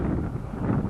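Steady gusty wind buffets the microphone on the Pyg Track mountain path up Snowdon, a constant low roar with no breaks and no voices.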